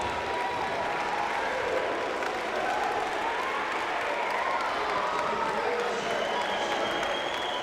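Basketball fans in an arena clap and cheer in a continuous wash of applause and crowd noise, steady and moderately distant throughout.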